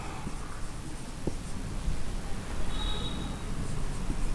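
Chalk or pen scratching steadily across a board or page while a mathematical proof is written out, a continuous faint rustling scrawl with a few light taps, no voices.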